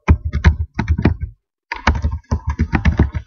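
Fingers type on a computer keyboard in quick bursts of close, crisp keystrokes, with a short pause between two runs of typing.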